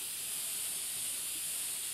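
Paint sprayer spraying paint onto a rose artwork, a steady bright airy hiss running unbroken throughout, faint and close, no voices.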